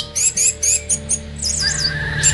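An orange-headed thrush (anis merah) sings in a series of loud, close, rapid whistled phrases, a burst of repeated notes followed by a longer rising and falling warble, with faint low background hum.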